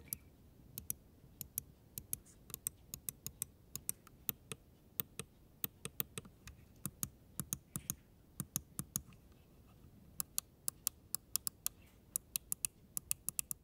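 Clicks from the Omron switches of a magnesium-alloy gaming mouse, sharp and close. They come in irregular runs of single and double clicks over a faint quiet background and continue throughout.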